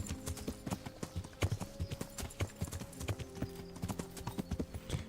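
Steady clip-clop of horse hooves trotting on a road in the video game Kingdom Come: Deliverance, at an even rhythm, close and clear, with faint background rumble and no voices.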